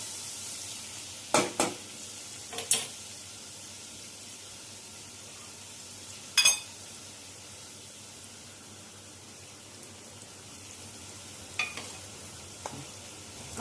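Onion frying in a pan until browned for a Malvani prawn gravy, a low steady sizzle with a few sharp spatula scrapes and clinks spaced through, no voices.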